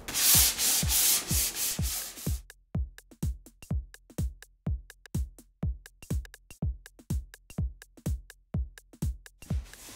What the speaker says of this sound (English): Doesn't have to be a very thorough sand, just enough to score through it with scratches in it.